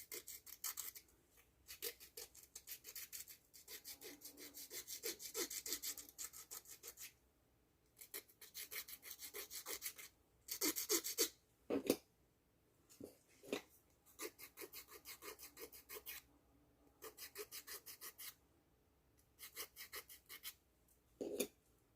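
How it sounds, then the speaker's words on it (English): Nail file rasping excess length off a pinky fingernail, close up in repeated bursts of quick back-and-forth strokes with short pauses between them. "It's going to need another file, but we just got that excess off."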